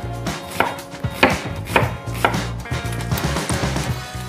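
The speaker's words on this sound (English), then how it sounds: "Chop the onions as finely as you can." A kitchen knife chops onions finely on a board, with loud, close, fairly regular knocks and brief pauses between bursts of cuts, no talking.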